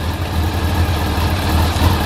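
A 1988 Honda CBR400RR NC23 motorcycle engine with carbs rebuilt using Honda OEM parts idles with the choke off, a steady low rumble that holds even and continuous throughout, close and fairly loud.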